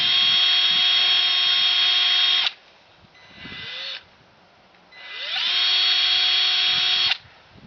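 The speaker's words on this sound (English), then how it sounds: "I'm going to drill two 3/16 holes for the hardware." A power drill whirs loudly and close in two long sustained bursts, with a short lower-pitched spin-up between them, drilling two 3/16-inch holes for railing hardware.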